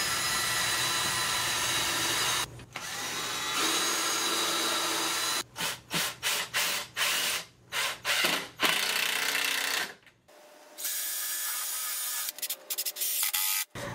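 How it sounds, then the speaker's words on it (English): Power drill driving screws into a wooden brace on a flow-through worm composter, with steady whirring runs broken by a cluster of short bursts and pauses, close and loud, no talk. "Now we'll drill and screw in the brace."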